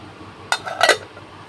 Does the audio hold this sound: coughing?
no